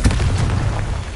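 A Confringo spell explodes in Hogwarts Legacy on PS5, a deep, loud, sustained boom with a rumbling low end that rolls on without pause.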